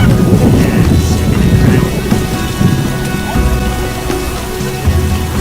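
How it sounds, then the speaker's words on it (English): Heavy rain pours down steadily in The Witcher video game, a dense loud downpour with low rumbling thunder beneath it, continuous with no voices. "What a downpour."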